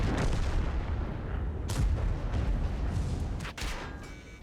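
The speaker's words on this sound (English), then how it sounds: "Yeah, Batshot, I know you're shooting fucking heat" Tank cannon fire in World of Tanks, a heavy booming shot followed by rumbling battle noise and a second sharp blast near the end.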